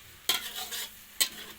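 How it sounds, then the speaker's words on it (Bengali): A spice mix with ground coriander is sautéed in a pan, and two sharp scraping strokes of a spatula rise out of a soft sizzle and fade into it, heard close with no talking. "এবার মশলাটাকে আমি কষিয়ে নেব"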